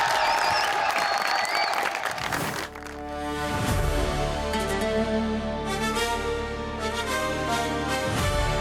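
An audience at a televised stage show claps loudly in a broad wash of applause for a few seconds before music takes over.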